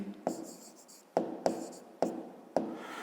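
A pen scratches across paper while a maths exercise answer is written out, with short rasping strokes in four or five quick bursts and soft pauses between them, close and clear with no talking.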